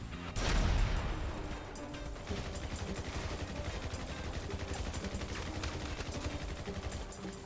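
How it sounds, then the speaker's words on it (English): Rapid shotgun and gunfire bursts in a video game firefight, opening with a loud blast and followed by dense, continuous crackling shots over several seconds, no talking. "what the hell's that shotgun?"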